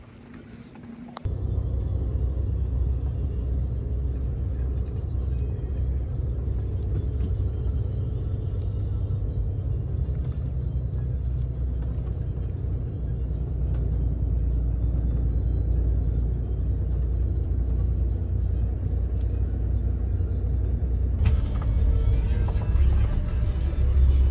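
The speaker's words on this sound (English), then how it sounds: "We're on the bus." A bus engine rumbles steadily from inside the cabin while riding on a road in Bosnia and Herzegovina, a deep continuous low drone that stays loud throughout with slight variations.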